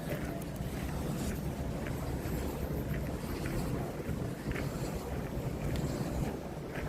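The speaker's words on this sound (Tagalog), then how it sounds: "Dinig mo yun ng hangin niya" Wind roars steadily against the microphone at a windmill site in the Philippines, a low, rumbling buffeting that persists throughout, fairly close and constant.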